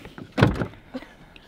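A car door shuts with one solid thud at a campsite, followed by a small click, close by and alone with no talking.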